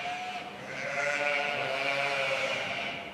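Several sheep bleat together inside an automated meat processing factory, a sustained chorus of overlapping calls at moderate distance, with no speech.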